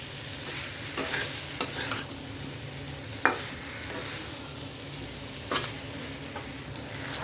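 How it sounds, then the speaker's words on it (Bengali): Young jackfruit and prawns stir-fry in a pan, a continuous close sizzle broken by scraping stirs and a few sharp spatula knocks against the metal. "আমি 3-4 মিনিট ভালোভাবে কষিয়ে নেব। তার আগে আমি চিংড়ি মাছটাও এর মধ্যে দিয়ে দেবো।"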